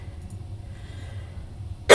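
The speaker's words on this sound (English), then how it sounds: "Notice how I just coughed and turned my head." A single short cough from someone whose head is turned away from the microphone, a brief burst at the very end after a stretch of quiet room tone.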